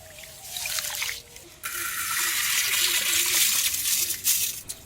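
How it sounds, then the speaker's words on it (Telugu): Water swishes and trickles close by as horse gram is rinsed by hand, with soft splashes and no talking. "నీళ్లు పోసుకుని రెండు సార్లు ఇలా ఉలవలు బాగా కడుక్కోవాలండి"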